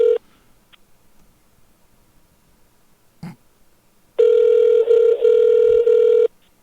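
A telephone calling a cell phone gives a short tone at the start, then near silence broken by a click, then a loud steady tone lasting about two seconds before cutting off.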